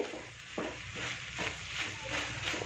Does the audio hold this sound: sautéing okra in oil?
yes